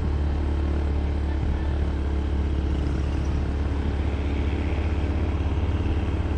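Motorcycle riding on a road home, recorded with an Insta360 X3 and an external mic: a continuous low engine drone with heavy wind rumble, steady and close throughout, with no pauses.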